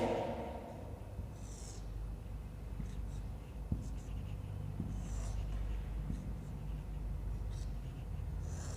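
Marker or chalk scratching across a lecture board while a diagram is drawn, a steady close scraping texture running throughout with brief squeaky strokes.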